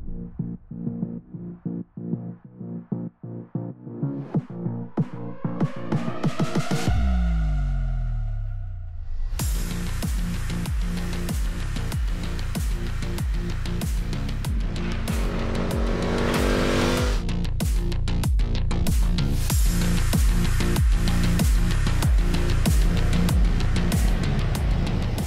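An Indian FTR R Carbon motorcycle laps a racetrack, its engine pulsing loud and close as revs climb, dip through a sweeping drop, then hold high and strong for a long stretch without speech.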